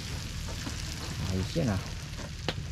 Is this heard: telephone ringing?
no